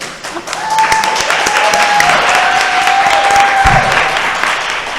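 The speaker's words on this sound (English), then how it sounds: "Let's give a round of applause for our candidates." Applause for the candidates closes an Atlanta City Council President runoff forum, a loud, steady crowd of clapping that swells and holds, with a few sharper individual claps near the microphone.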